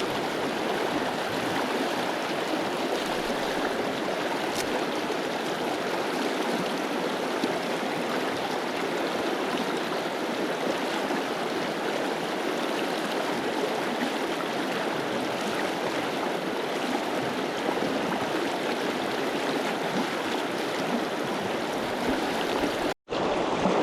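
A flood-swollen trout stream rushes past an uprooted tree, producing a steady, full, continuous roar of flowing water that holds constant from start to finish with no voices.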